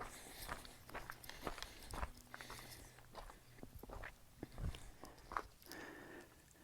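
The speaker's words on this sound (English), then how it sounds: "I'm chewing." Close, quiet chewing of food by a hiker on a mountain trail, with irregular soft crunching and mouth clicks through the stretch and no talk.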